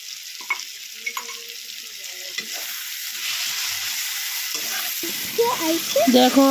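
Chutney cooking in a pan while being stirred, with scraping and clinking spoon strokes over a steady, close sizzle that grows louder toward the end.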